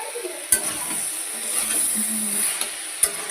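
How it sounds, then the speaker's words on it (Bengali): Vegetables sauté with cumin, chilli and turmeric powder in a pan: a steady close sizzle with a few sharp clinks of a utensil against metal while stirring, and no talking. "ভালো করে একটু সবজিটা কষিয়ে মতো নিয়ে নিই।"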